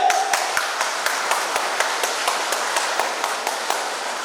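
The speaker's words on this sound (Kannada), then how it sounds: "ಸೊ ಜೋರಾಗಿ ಚಪ್ಪಾಳೆ." A crowd of audience members claps loudly and continuously at a live programme, dense overlapping hand claps sustained throughout without a break.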